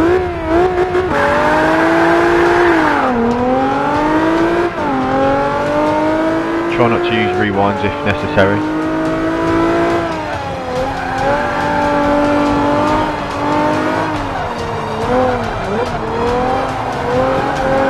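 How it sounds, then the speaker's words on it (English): An Abarth 500 in Forza 5, built with a V6 swap from a 370Z and rear-wheel drive, revs hard and loud throughout, its engine pitch rising and dropping through gear changes with tyre squeal on corners, while someone talks over it. "Love the engine sounds on this game, they've really nailed that."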